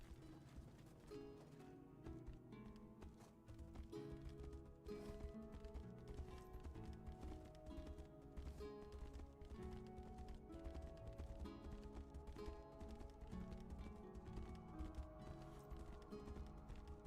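A horse gallops in the video game Tainted Grail: The Fall of Avalon, a steady rhythmic beat of hooves that runs throughout under a loud, dense game soundtrack.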